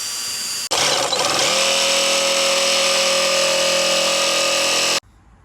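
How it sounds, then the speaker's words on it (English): A power drill whirs up after a sharp click, drilling a hole in the rear of a Volvo V70, running loud and steady for several seconds before cutting off abruptly. "just going to take a drill and stick a hole in the back here"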